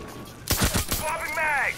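Gunfire in a video game: a sudden loud burst of rapid shots, followed by whistling, ringing tones that rise and fall. There is no talking.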